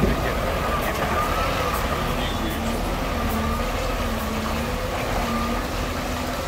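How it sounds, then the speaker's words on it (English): A concrete lorry arrives and reverses at a Blackpool building site, heard as a steady diesel engine drone with a faint intermittent reversing tone over outdoor background noise. "the gates are open now to welcome the arrival of this concrete lorry."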